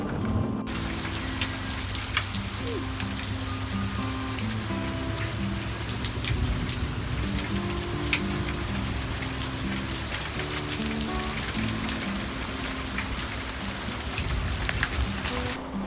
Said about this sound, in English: That is hail hitting my window.